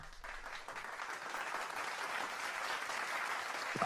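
Clapping sound effect from a Wheel of Time board game, a steady crowd-style applause swelling slightly over about four seconds, moderately faint.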